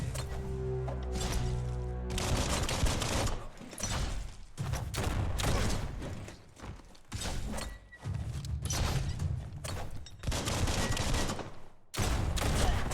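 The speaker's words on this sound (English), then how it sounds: "shoots a couple bullets here and there just to make sure they're dead" Gunfire in the video game Biomutant as a few follow-up bullets are fired, heard as dense, loud bursts of shots and thuds over a busy game soundtrack, with several brief pauses.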